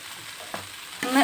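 Turmeric and chili powder being stirred into a frying pan on medium or low flame: soft background sizzle with two brief scraping strokes, the second louder and longer near the end.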